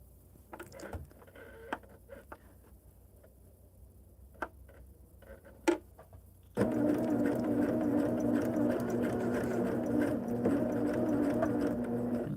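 A sewing machine stitches hexagon quilt pieces. A few faint clicks and taps come first, then the motor starts up loud and close and runs with a rapid, steady mechanical whir.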